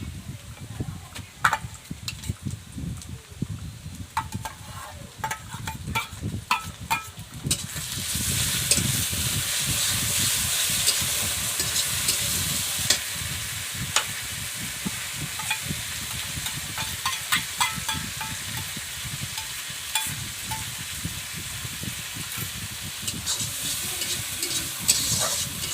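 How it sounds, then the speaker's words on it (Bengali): Cumin paste sizzles and fries with softened onions in a pan for a village-style chicken curry, a steady close crackling hiss with intermittent stirring scrapes and no talk. "জিরেটা অল্প সময়ের জন্য ভেজে নেব।"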